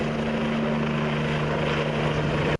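A rescue helicopter carrying rescuers drones steadily overhead during a training exercise in Vinnytsia, a loud continuous rotor and engine roar with a deep steady hum, cutting off abruptly at the end.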